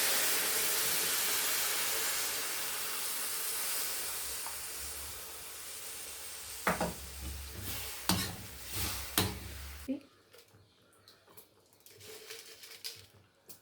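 A pot of sambar with tamarind simmers with a steady hissing bubble and soft popping, then quiets abruptly, leaving faint clinks and scattered bubbling.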